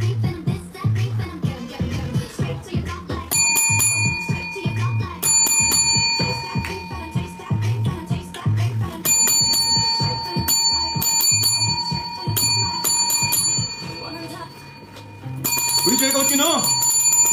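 A bell rings repeatedly during a live selling stream, bright rapid dings coming in several bursts over loud, continuous chatter and voices.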